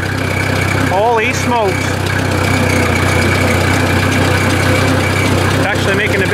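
Cold Ford 800 tractor engine fitted with electronic ignition runs at a steady idle throughout, loud and close, while a person talks over it.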